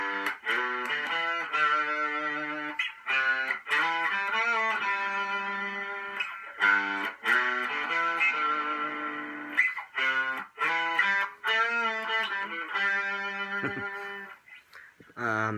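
A 2020 Epiphone Les Paul Special electric guitar played with distortion, loud sustained chords and riffs broken by short pauses and string stops, with no one speaking.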